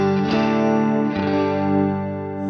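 An electric guitar plays sustained chords through a Quad Cortex stereo detune microprocessor effect, giving a thick, shimmering chorus-like tone with two strummed attacks ringing out clearly and alone.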